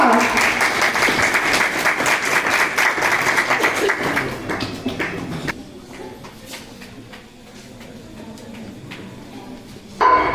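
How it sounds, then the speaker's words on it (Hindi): Audience applause at a school event, loud sustained clapping from a crowd for the first half, then thinning to scattered claps and murmur before a final burst of loud clapping. "A big round of applause to Shikha."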